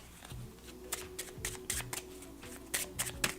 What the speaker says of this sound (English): Let me pull my little